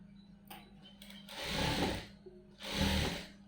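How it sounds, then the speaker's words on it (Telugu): A sewing machine stitching a blouse runs in two short bursts of rapid mechanical whirring, separated by a brief pause, fairly quiet and close with no talking. "ఇప్పుడు దీనిపై నుంచి ఒక స్టిచ్ కదలకుండా వేసేయండి"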